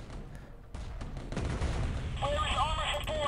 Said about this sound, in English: Yeah, that artillery is killing us.